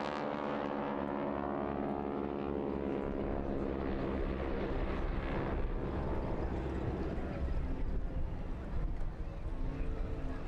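An aircraft performing an aerobatic display at an air show, a continuous droning engine roar that holds steady and shifts slightly in pitch as it passes, loud and sustained throughout.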